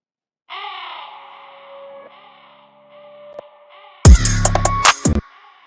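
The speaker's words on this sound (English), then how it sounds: "Now I'm going to do the same thing to the crow sound." A repitched crow sample caws in a drawn-out, processed tone, followed by a louder burst of harsh, rough calls near the end.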